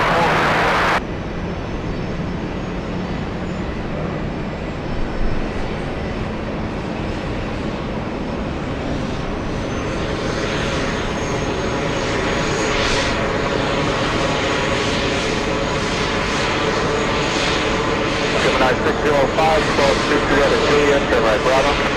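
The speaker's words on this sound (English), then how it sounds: "APU starting up again on Emirates" An Emirates airliner's auxiliary power unit starts up at JFK Airport, a steady whining hum that slowly swells and holds, mixed with airport rumble while air traffic control radio talk plays over it.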